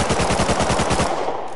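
Automatic gunfire from a recoiling weapon in the survival video game Rust, a rapid, steady burst of about a dozen loud, close shots that stops abruptly, with no talking.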